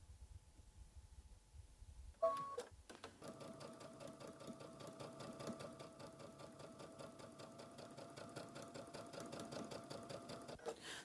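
A sewing machine runs a continuous stitching burst on a star pillow seam after a few clicks and a short pause. It stays steady and close for several seconds, then stops, with no talking.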